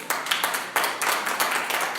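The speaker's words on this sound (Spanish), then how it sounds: "Den un aplauso al Señor, por favor." A church congregation applauds together during a sermon, a dense steady wash of many hands clapping at close range with brief swells, no voices standing out.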